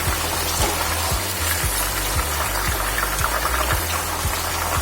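Chicken frying in hot oil, a dense continuous sizzle and crackle filling the whole stretch at steady loudness, no voices.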